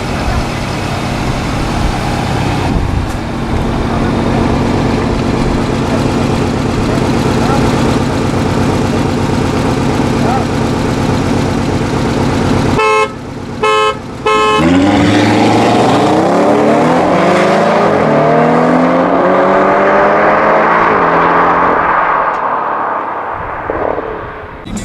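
An Audi RS3 sedan with a 400 hp engine idles with a deep steady burble, then after a brief gap revs up in a rising, sweeping roar that falls away to a fading tail, loud and close.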